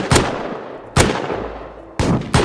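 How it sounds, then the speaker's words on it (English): Pistol shots in the survival game Rust: four sharp, loud reports spaced about a second apart, each followed by a short decaying echo, heard alone without talk. "I hit him three times with a pistol"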